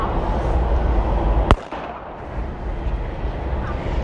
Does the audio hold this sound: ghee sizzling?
no